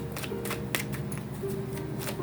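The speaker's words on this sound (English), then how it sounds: "Let me get this a great big shuffle real quick." A deck of tarot cards shuffled by hand, several short papery riffles and rustling bursts close to the microphone over a low steady hum.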